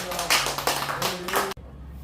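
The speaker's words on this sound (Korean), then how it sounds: "다시 한번 뜨겁게 박수를 드립니다." A church congregation claps at a Sunday afternoon service after a harmonica performance, a short burst of rhythmic hand claps under a speaking voice that cuts off abruptly into near silence.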